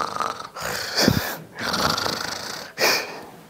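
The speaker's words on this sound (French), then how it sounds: "Ronfler, c'est « to snore »." A person snores loudly in three long, rasping breaths with short pauses between them, close and alone, sounding like a deliberate demonstration of snoring.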